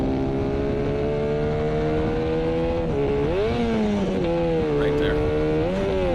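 A 1984 Honda VF500F motorcycle runs loud and close on a race track, its engine droning steadily as it is upshifted without the clutch, with pitch dips and rises at each shift and a brief voice over the top.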